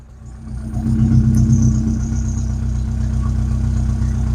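A Rover 25 GTI engine idles with a misfire after a fuel filter change, a steady low, close rumble with a faint uneven hesitation in its pulse, no voices over it.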